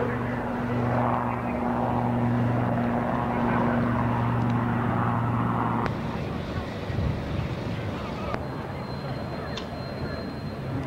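Display team aircraft fly past at the 1994 Mildenhall air show with a sustained droning roar that shifts and fades partway through, heard beneath a commentator speaking over the loudspeakers.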